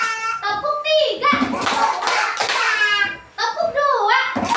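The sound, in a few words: children clapping hands in a classroom clapping game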